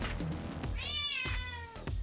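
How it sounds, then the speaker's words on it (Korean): A cat gives a single clear, close meow with a rising then falling pitch, heard alone indoors beside a newly built cat tower, with faint soft knocks around it. "우리 고양이."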